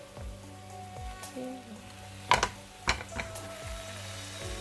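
Soft sizzling of vegetables stir-frying in a pan, with a few sharper clatters of stirring partway through.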